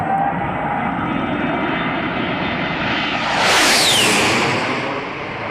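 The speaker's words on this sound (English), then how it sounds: "that's the sound of A-10s flying by" An A-10 attack aircraft roars past overhead, its loud twin General Electric engine rumble swelling into a rising whoosh and Doppler whine before easing off, with no voices.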